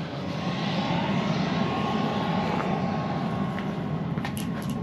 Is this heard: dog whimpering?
no